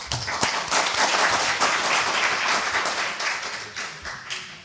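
A seminar audience breaks into a loud, dense round of applause, steady and sustained throughout before tapering slightly at the end.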